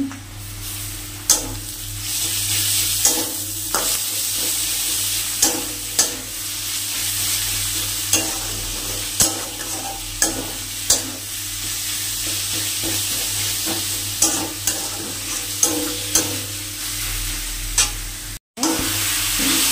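Garlic and ginger paste sizzling in a small amount of oil in a pan, a steady frying hiss broken by repeated sharp scrapes of a spoon stirring, close and fairly loud with no talking.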